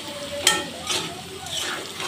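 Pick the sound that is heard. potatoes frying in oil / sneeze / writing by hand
potatoes frying in oil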